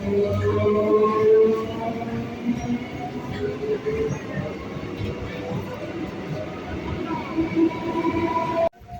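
Low rumble and rolling clatter of two trains side by side at Madhyamgram station, an ICF train and a regular train, with tonal hum and squeals throughout, steady and fairly close.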